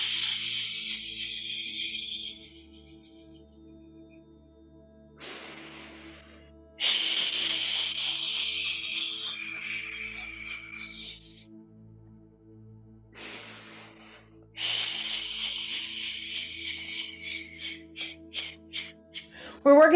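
During a qigong session, the liver healing sound is made as long, breathy exhalations that rise into a loud hiss. Three drawn-out hisses come in steady cycles, separated by quiet pauses with a faint drone underneath.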